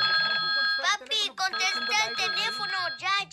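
A phone's electronic ringtone sounds steadily throughout as someone talks over it. A voice is also heard nearby.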